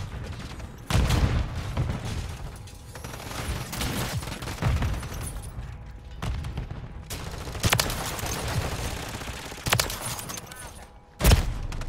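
Gunfire and shotgun blasts from Modern Warfare 3 gameplay, with repeated loud shots and bursts coming in clusters over a constant background of in-game combat noise.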